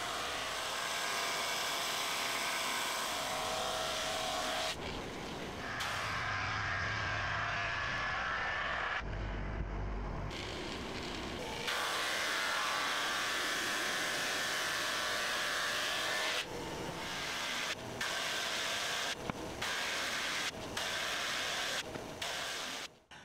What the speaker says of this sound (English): Next I'll put the panels through the drum sander